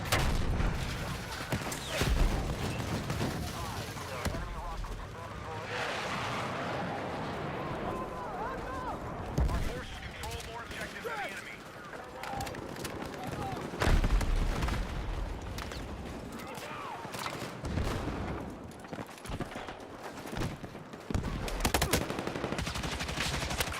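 Enemy gunfire in the video game Battlefield 6, steady bursts of shots and booming impacts running through the whole stretch, mixed with game noise under a player's voice.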